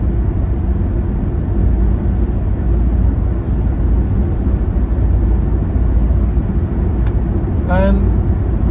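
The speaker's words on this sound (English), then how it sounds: "It's getting a little bit noisy when traffic goes past." Steady, loud road rumble from passing traffic heard from inside a Mazda Demio, with a brief squeaky rattle near the end.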